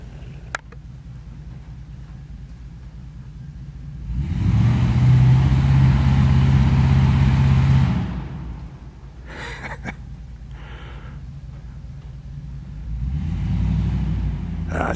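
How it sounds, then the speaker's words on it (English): Old truck engine driven by a boy on a farm, a low rumble that swells into a steady loud roar for a few seconds, then falls back to idle with brief clanks, rising again at the end. "He ain't gonna hurt that old truck."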